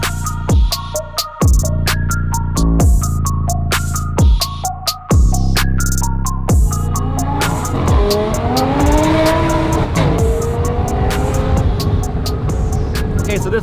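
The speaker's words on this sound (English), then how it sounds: "Okay, so this car obviously is supercharged." A supercharged supercar of around 800 horsepower revs hard in repeated sharp bursts, then holds a rising, gritty howl with tire noise, loud and close.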